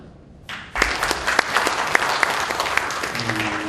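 Audience applause breaks out at a Korean trade federation's extraordinary general assembly, starting abruptly and holding as a dense, steady clapping from a large room of people.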